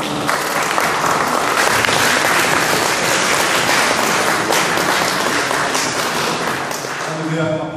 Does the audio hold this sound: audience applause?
yes